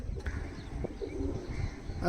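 Oman teddy pigeons coo softly in a loft, low throaty murmurs repeating over a busy background, with people talking nearby.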